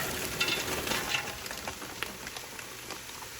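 Onions, carrots and butternut squash fry in butter over medium-high heat, giving a steady moderate sizzle with soft crackles and occasional stirring scrapes.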